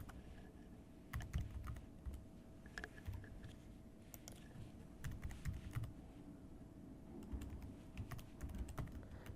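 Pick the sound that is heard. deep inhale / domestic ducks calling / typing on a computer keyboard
typing on a computer keyboard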